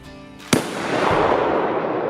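A firecracker goes off in a hand with a single sharp, loud bang, followed by a rushing, hissing wash of noise that lingers and slowly settles.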